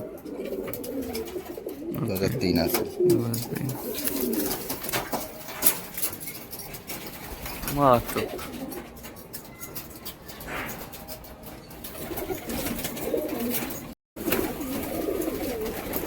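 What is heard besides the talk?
pigeons cooing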